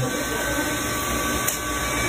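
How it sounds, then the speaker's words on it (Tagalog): A blower running steadily on a school project, a continuous close whooshing hiss of rushing air that holds at an even loudness from start to finish. "Gumamit na sila ng blower."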